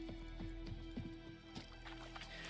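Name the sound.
horse in the video game The Witcher 3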